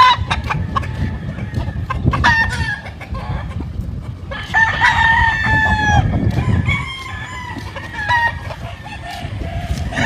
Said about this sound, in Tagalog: Mga stock pong manok ito.